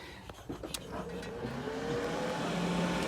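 A 5-horsepower, 3-inch solar-powered water pump on a farm starts up after a few clicks, its motor whine rising steadily in pitch and loudness as it spins up, close by and alone.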